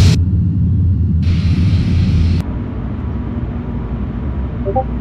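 Airbus A320 engines in Flight Simulator X run up with a steady, loud low rumble and a broad hiss that swells, then the roar drops to a quieter, sustained drone for the rest.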